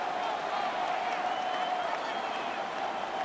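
A simulated stadium crowd in a Madden 26 Chiefs versus Bills football game roars in a steady, dense wash of cheering and applause that holds throughout, with a commentator's voice running over it.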